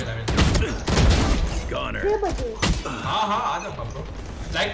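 Valorant gunfire cracks out in a few sharp bursts amid game clatter and thuds, with a voice talking over the shots.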